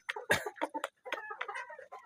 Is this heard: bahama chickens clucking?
yes